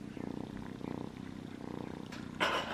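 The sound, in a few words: kitten purring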